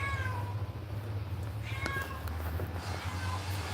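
Several outdoor cats meow in repeated short calls, some near and some farther off, over a steady low background hum with no speech.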